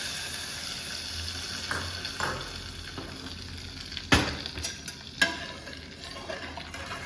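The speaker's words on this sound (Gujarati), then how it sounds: "સંભારની અંદર આ વઘારને આપણે એડ કરીશું" Hot oil tempering with curry leaves sizzles and crackles as it is added to sambar, with a few sharp spits and pops standing out from the steady frying hiss.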